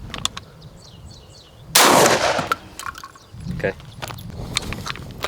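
A Benelli M3 dual-mode shotgun being broken in fires one loud, sharp shot that rings briefly, with talking heard before and after it and small metallic clinks of the action.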